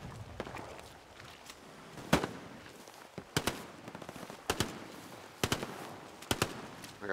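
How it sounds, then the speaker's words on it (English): Gunfire crackles in the World War II shooter Hell Let Loose, a snowy battlefield: repeated sharp shots in scattered bursts, some close and loud, others more distant, over a steady rustling ambient background. "I got people shooting to my left."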